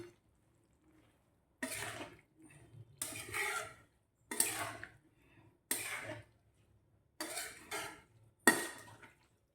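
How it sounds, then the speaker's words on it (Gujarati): Fenugreek, green pea and potato curry stirred in a pan with a metal spoon, six distinct bursts of scraping and clinking separated by short quiet gaps, close and clear with no talking. "હવે આપણે આને મિક્સ કરી દઈશું."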